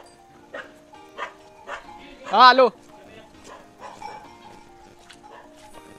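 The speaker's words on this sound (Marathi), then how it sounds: "इथे इथे त्यांचे डॉग्स आहेत गार्डिंगसाठी." A Labrador guard dog on a farm gives one short, loud bark in the middle, while people talk steadily close by.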